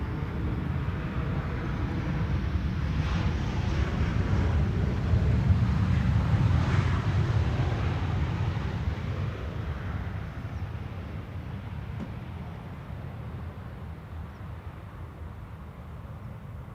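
A Transavia Boeing 737 arriving on the Polderbaan runway at Schiphol, its broad jet roar swelling to a peak midway and then slowly fading as it passes, heard outdoors with some wind against the microphone.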